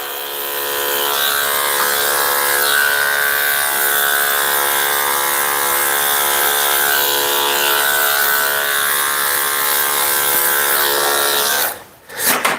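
Electric clippers shaving the belly and groin of a giant Great Pyrenees dog during grooming: a steady, close, loud buzzing hum that runs unbroken for about eleven seconds, then cuts off with a brief rustle at the end.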